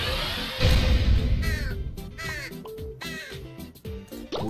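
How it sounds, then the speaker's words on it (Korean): A crow caws repeatedly inside the Kartrider racing game, with several harsh, close calls in an uneven rhythm over steady game sound and a low rumble. "까마귀 소리 오지게 됐네"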